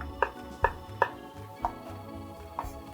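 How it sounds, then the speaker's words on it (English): Five crisp knife strikes coarsely chop mushrooms on a board, spaced unevenly and close by, with a quiet background and no speech. "I'm gonna coarsely chop them up"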